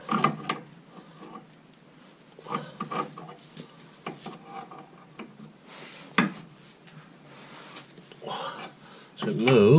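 A Stillson wrench works on a seized track rod end of a 2001 Golf Mk4 1.8T GTI, giving scattered metallic creaks, clicks and scraping with a sharper bang near the end, heard among a man's speech.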